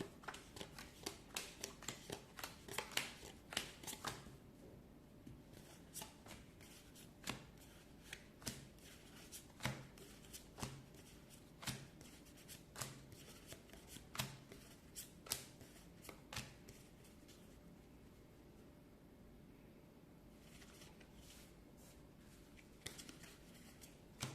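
Playing cards are shuffled and flicked for a game of Speed in repeated crisp bursts of riffling and snapping. The sound is close and quiet, with no talking.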